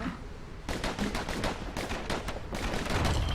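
Rapid slinger pistol fire from Bastion: a quick, dense run of repeated shots in a steady burst, fairly soft, with a short pause before more shots resume.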